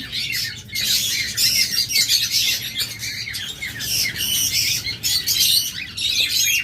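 A dense chorus of pet birds for sale, lovebirds, budgerigars and Java sparrows among them, squawks and chirps nonstop at close range, loud shrill calls overlapping without pause.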